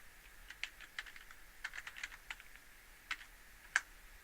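Quiet, steady typing on a computer keyboard while entering a file name, a run of soft irregular key clicks with one louder final keystroke.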